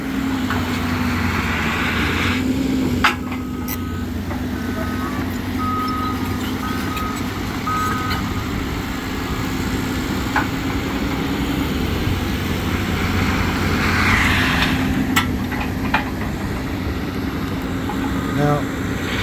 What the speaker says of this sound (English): that's a skid steer.